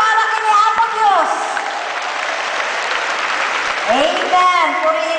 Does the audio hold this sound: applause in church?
yes